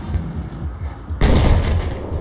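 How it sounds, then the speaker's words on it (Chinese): A helicopter blows up amid gunfire in the video game Battlefield 4: a loud, dense burst of explosive noise breaks in about halfway through, following quieter rumbling combat. "点样次次直升机一过就爆炸？"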